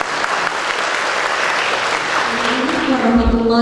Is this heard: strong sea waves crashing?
no